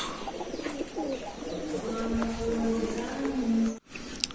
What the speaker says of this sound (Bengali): এই যে কবুতর খাইতেছে